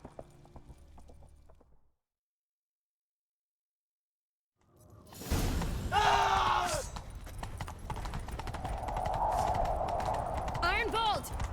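Horse hooves clip-clopping at a run in The Witcher 3 video game, rising after a silent gap and carrying on under game music and voices.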